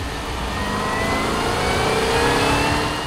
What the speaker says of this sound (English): the brawny Chevrolet Camaro ZL1 muscle car is right up your alley. Its supercharged V8 engine cranks out as much power and torque